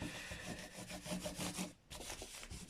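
Fingerboard oil is rubbed evenly into the fingerboard of a Gibson SG Special guitar during a setup, making a soft, close, continuous rhythmic rubbing with a brief pause near the end.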